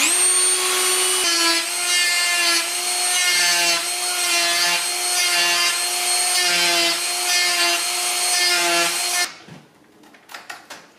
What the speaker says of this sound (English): I have no idea how to cut this, so by default, that means Dremel.